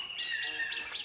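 Small birds chirp in a quick series of short, high calls around a village path lined with bamboo groves, faint and somewhat distant against quiet outdoor air.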